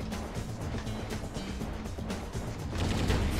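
Gunfire in the mech video game Metal Wolf Chaos, a steady rattling stream of rapid shots over heavy rumbling explosions, loud and continuous throughout.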